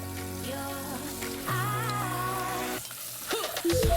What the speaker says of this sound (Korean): 냄비에 올리브 오일을 두르고 버터를 녹인 다음 썰어놓은 감자와 마늘을 넣고 볶아준다.